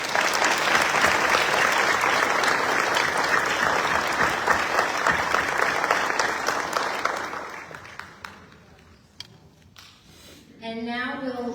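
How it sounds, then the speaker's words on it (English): Audience applause at a Fort Cavazos family scholarship award ceremony honoring military spouse recipients: steady, dense clapping from a large room for about seven seconds, then tapering off into scattered claps before a voice begins. "Let's give these military spouses another round of applause."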